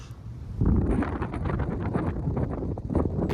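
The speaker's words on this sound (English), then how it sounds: "God damn, the wind up here. You hear it yourself" Strong wind buffets a hilltop antenna site, a loud, steady roar with gusty swells that thickens sharply after the first half second and keeps blustering without pause.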